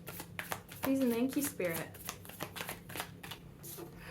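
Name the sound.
shuffling tarot cards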